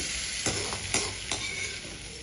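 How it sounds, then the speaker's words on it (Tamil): Mustard seeds and urad dal tempering sizzle and crackle steadily in hot oil, a close, continuous frying hiss broken by a few louder pops and stirring scrapes, with no talking. "இதுக்கு வெறும் கடுகு உளுந்து அவ்வளோதாங்க தாளித்து கொட்டியாச்சு"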